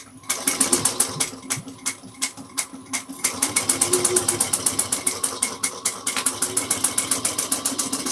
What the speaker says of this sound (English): we're going to sew 3/8 of an inch, back stitching the beginning and the end